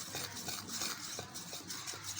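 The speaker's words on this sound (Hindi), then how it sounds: "हमने स्मूथ से बैटर बनाना है, अच्छी तरह मिक्स करना है।" Gram flour (besan) batter being stirred smooth in a bowl makes a steady, soft, wet swishing with a gentle repeating rhythm, close up and faint, with no voice.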